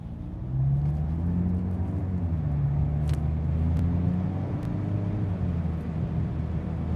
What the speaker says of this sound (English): I like how this car makes that sound.